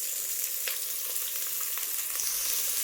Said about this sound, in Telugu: ఫస్ట్ ఆనియన్స్ వేసుకొని వేయించుకుందామండి.